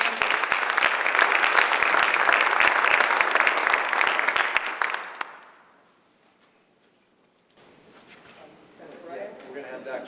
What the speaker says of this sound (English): Let's give Sue another round of Okay. applause.